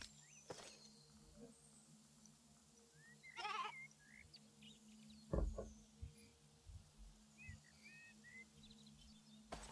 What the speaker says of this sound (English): I think I need some more meat. Let's kill some more kangaroo sheep.